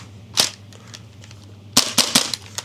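A new airsoft gun firing: a single sharp, snappy pop, a pause, then a quick cluster of three or four crisp shots close to the mic over a low steady hum.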